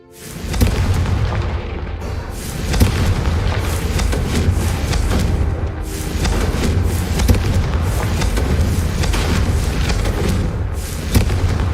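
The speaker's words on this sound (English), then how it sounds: "a Confringo cast travels a bit farther than that of a spell like Incendio." Confringo fire spell blasts in Hogwarts Legacy, a loud, continuous rumbling roar of explosive booms that fills the whole stretch with no pauses and no talking.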